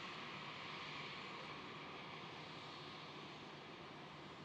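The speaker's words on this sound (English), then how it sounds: "That was a pretty sharp turn by that Embraer there." An Embraer jet passes over Brisbane International Airport in the evening, heard as a steady broadband engine roar at moderate distance with no talk.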